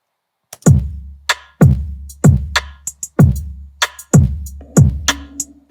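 Rim hits programmed on a drum kit in FL Studio ring out as sharp, dry clicks over deep kick thumps, repeating in a steady beat pattern about once a second with no voices.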